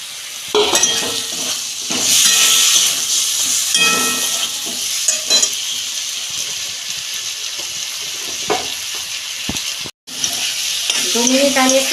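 Cauliflower, potato and flat beans tossed into a hot pan for a Bengali fish curry, setting off a loud, steady sizzle with repeated stirring scrapes and a brief dropout near the end.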